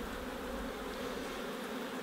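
Honeybees buzz steadily around a hive, a dense continuous hum at moderate, even level with no voices.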